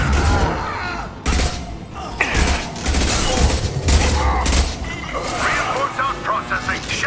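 Heavy gunfire in the video game Mass Effect rattles in dense, loud bursts and crashes, with voices speaking over the fighting throughout.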